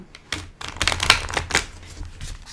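A thick, slightly stiff oracle card deck is shuffled close up, giving a run of rapid papery riffles and flicks that come in uneven bursts with no talking.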